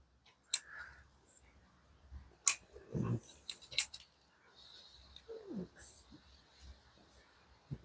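Scissors trimming leaves on a ficus tigerbark bonsai, a few sharp close snips spaced irregularly against near silence, with soft handling rustles and a brief low voice between cuts.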